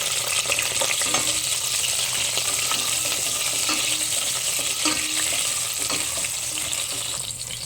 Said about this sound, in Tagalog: Lagay ko yung bawang. Lagay ko yung kamatis.